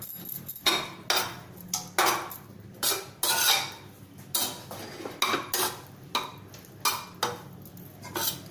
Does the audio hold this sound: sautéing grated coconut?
yes